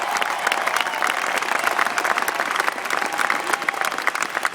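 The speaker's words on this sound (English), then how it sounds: "maybe we should let the fans give Pablo a round of applause" Baseball fans at a San Francisco Giants breakfast event give a player a round of applause, a steady, dense wash of clapping from a crowd with light cheering mixed in throughout.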